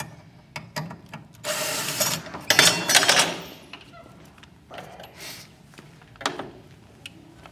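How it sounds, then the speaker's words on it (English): Screws holding the pump of a Drymax duck bill valve being backed out with a tool, giving bursts of close mechanical whirring and ratcheting with short pauses between them, and no talk. "remove the 2 screws that actually hold the pump in position"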